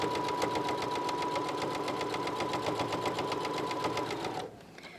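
Sewing machine with a dynamic walking foot quilting straight, evenly spaced lines, stitching at a fast, steady mechanical rhythm close up, then slowing to a stop just before the end.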